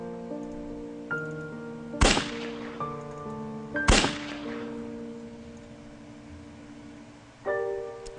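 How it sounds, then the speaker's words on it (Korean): Sharp, loud gunshots crack out suddenly in a staged horror radio drama scene, two prominent reports roughly two seconds apart with a third at the end, set against a sustained ominous musical score. "갑작스레 총소리가 울려 퍼지고"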